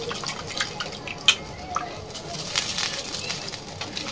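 Water drips and splashes softly while rice is washed by hand in a home kitchen, scattered small drops and one sharper splash over a quiet background hiss.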